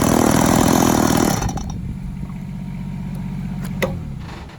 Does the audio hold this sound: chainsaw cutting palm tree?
yes